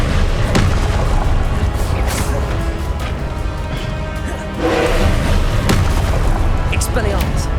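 Spell blasts from Confringo in Hogwarts Legacy boom and crash during combat, several loud close impacts over a dense battle din, with voices casting spells throughout.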